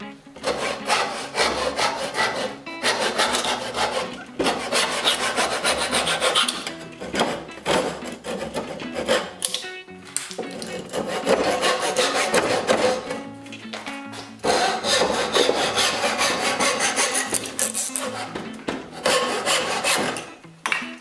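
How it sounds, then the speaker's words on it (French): A hand saw cuts through wood to clear the outer part of a tenon for a shaker workbench, with loud, rhythmic rasping strokes running continuously and close, pausing briefly midway before resuming. "Je dégage la partie extérieure à la scie"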